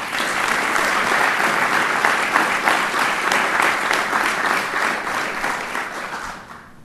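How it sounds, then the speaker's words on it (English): Audience applause at a spring awards ceremony for a radio station's high school sports dream team, a dense, steady wash of many hands clapping that holds for several seconds before tapering off at the end. "A big round of applause for Brianne Borman from Festus"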